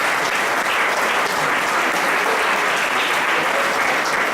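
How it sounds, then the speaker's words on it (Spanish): A crowd at a cultural symposium applauds strongly and continuously, a dense, even wash of clapping with no pauses or voices. "la señora Scarlett Hoyster, para quien pido un fuertísimo aplauso"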